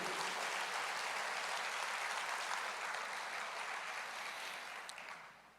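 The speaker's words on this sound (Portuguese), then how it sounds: "aplauda ao Senhor" A church congregation bursts into sustained applause, a dense, even roar of clapping that holds steady for several seconds before fading toward the end, with no one speaking over it.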